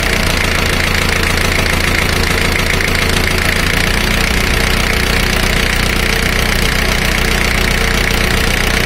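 Car engine idling loud and close during a cylinder power balance test, the steady rumble settling to a lower, rougher beat about halfway through as the high-pressure fuel line to cylinder four is disconnected.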